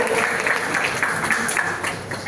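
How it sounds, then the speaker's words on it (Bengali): Audience at a college show bursts into loud, steady applause, with dense clapping filling the room and a murmur of crowd voices mixed in. "BIS এর জন্য একটা জোরে হাততালি হবে না?"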